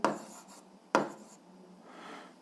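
Math being written on a board for an 8th-grade algebra lesson: two sharp taps of the tool touching the board, each followed by brief scratchy strokes, then a faint drawn-out scrape, quiet and without talk.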